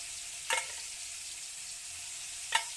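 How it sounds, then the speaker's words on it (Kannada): Paneer fries in a pan with a steady, close sizzling hiss throughout. Two brief metallic clinks from a utensil sound about two seconds apart. "ನೋಡ್ರಿ ಪನ್ನೀರ್ ಫ್ರೈ ಮಾಡ್ಕೊಂತೀನಿ"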